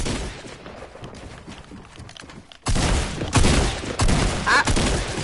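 Quiet rumbling background gives way to a sudden burst of loud, rapid gunfire in Fortnite, with repeated heavy shots and impacts continuing to the end.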